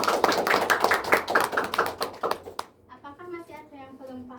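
A class of students claps together in a lively burst of applause that lasts a couple of seconds, then fades as a voice begins talking.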